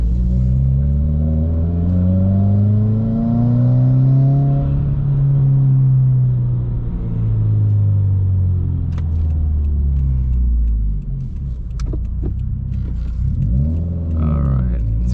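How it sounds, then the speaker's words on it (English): A modified Subaru WRX with a new pro tune accelerates hard, its engine rising in pitch through the gears with a drop at each shift, loud and close from inside the car. "Let's do a couple accelerations to get this started."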